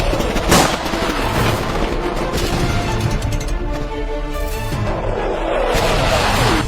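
Battlefield sound effect of dense gunfire and artillery, a loud continuous barrage with booming blasts and crackling shots throughout, no speech.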